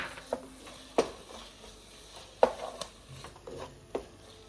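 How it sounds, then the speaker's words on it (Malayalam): Prawn biryani masala being stirred in a pan, heard as a handful of sharp spoon scrapes and clinks spaced irregularly over a quiet background. "ഇതെല്ലാം കൂടി ഒന്ന് ഇളക്കാം."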